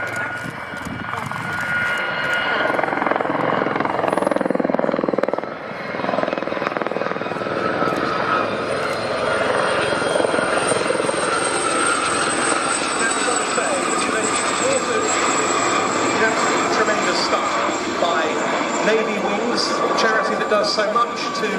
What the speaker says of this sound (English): running in to start the display at Shuttleworth Collections Fly Navy Air Show 2022, the 4 Westland Gazelles of the Gazelle Squadron display team